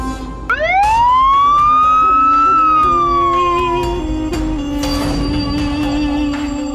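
A loud police siren wails up and falls once nearby, followed by a brief whoosh and a lingering lower tone as traffic passes.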